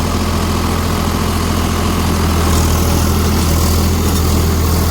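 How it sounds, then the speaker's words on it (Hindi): A Farmtrac 60 Powermaxx tractor engine drones at a low idle throughout, loud and close, with a constant rumbling hum and no talking. "पहले तो आवाज़ देखो ट्रैक्टर के"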